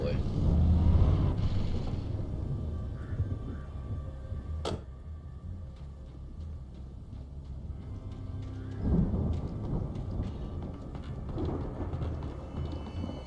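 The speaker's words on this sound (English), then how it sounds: "that storm we all felt coming is finally here" A thunderstorm rages in the video game Alan Wake, a low continuous rumble with a sharp thunder crack near the middle and a renewed swell of rolling thunder toward the end.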